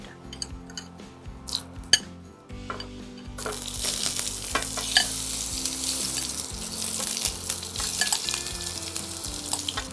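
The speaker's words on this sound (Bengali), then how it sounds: "এবার আমি এঁচোড়গুলো একটু ভাজা ভাজা করে নেব, আলুটা একটু ভাজা ভাজা করে নেব।" Jackfruit and potato pieces frying in oil in a pan for a Bengali jackfruit curry: a few clinks and stirring knocks at first, then a loud, steady sizzle that swells and holds, with no talk.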